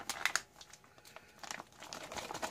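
A military Long Range Patrol chili mac ration pouch, folded over, crinkles and crunches in quick bursts as it is shaken by hand, close and fairly loud with short pauses.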